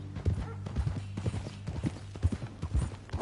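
Horse hooves clip-clop in a steady walking rhythm in the video game Red Dead Redemption 2, close and distinct, with faint low talk mixed in.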